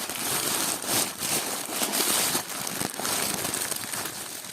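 Plastic packet of vintage jewellery being torn open and handled, giving a near, steady crinkling and rustling with sharp crackles throughout.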